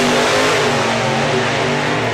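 A hot rod drag car launches at an NSRA Hot Rod Drags event, its engine a loud, sustained, gritty roar with a shuddering pulse from tyre shake, close and overpowering.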